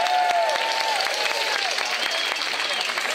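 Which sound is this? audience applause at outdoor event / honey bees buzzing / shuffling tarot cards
audience applause at outdoor event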